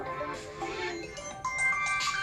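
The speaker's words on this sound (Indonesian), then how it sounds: "Ora let suwi, telpone ibu muni." A mobile phone ringtone plays in a domestic setting during a student drama performance, a steady electronic melody of bright repeating tones lasting a couple of seconds, moderately loud with faint room background.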